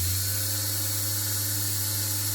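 A rotary transformer, a 24-volt to 250-volt DC-to-DC converter, hums steadily with a loud low tone and a high whine, holding near constant over the short stretch.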